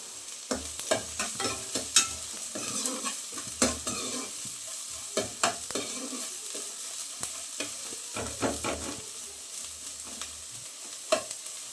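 Green chilli frying in oil for mutton sambar, a steady close sizzle broken by frequent sharp scraping strokes of a spoon stirring the pan, no voices.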